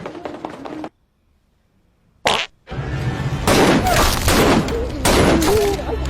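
Gunfire in a film scene: a burst of sharp shots after a short silence, then a dense chaotic run of bangs and impacts mixed with shouting voices and loud commotion.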